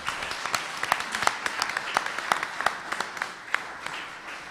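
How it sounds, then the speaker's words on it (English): Audience applause closing a city council candidates' debate, a steady crowd of clapping hands with scattered sharper claps standing out, moderately distant and without speech over it. "Let's give them one final round of applause."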